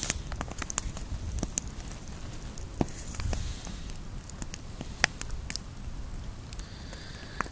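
Campfire in the Hoosier National Forest, with scattered sharp pops and light crackles ticking over a soft low rumble and faint hiss, steady and close throughout.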